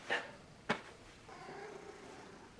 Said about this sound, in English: Oh, the cat wants to join us.